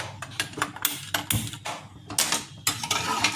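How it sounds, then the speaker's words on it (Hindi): A kitchen gas stove is lit with a series of sharp mechanical clicks and rattles from the knob and igniter, close by and irregular. "गैस जला दे रहे हैं,"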